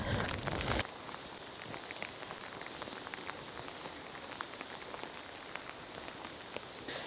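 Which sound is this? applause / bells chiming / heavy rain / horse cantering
heavy rain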